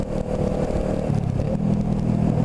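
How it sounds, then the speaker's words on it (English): Honda CB500 motorcycle revving through its exhaust, a steady moderately loud engine drone that rises in pitch partway through, fairly close, with no talk over it. "I'm surprised it's not like louder when you rev it out."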